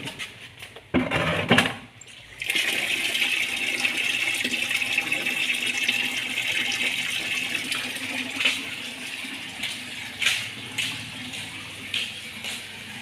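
Water gushes steadily from a hose for washing a car after a few knocks and clatters at the start, a continuous close rushing flow with small splashes and bumps.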